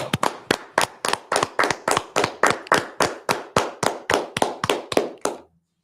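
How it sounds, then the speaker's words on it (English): Rhythmic unison clapping from a class at the end of a lesson, about twenty crisp, evenly spaced claps in a steady beat that stop abruptly into silence. "Let's clap it up."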